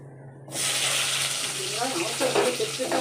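Mustard seeds and small cumin hit hot oil in a home kitchen and burst into a loud, steady sizzle after a brief quiet moment, with a voice talking over the frying.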